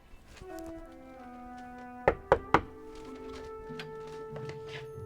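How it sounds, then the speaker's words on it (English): Three sharp knocks land on a door during Halloween trick-or-treating, evenly spaced and loud, set against a soft background of sustained musical tones. "First thing you must remember is to do the standard 3 knocks to ensure that they know that you have arrived"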